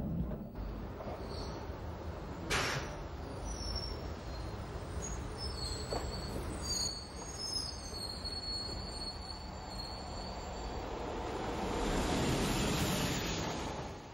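A London Underground Metropolitan line train runs on track approaching Westbourne Park at low speed in 1989, with a continuous rumbling roll of wheels, a sharp high squeal early on, and faint ringing tones along the way.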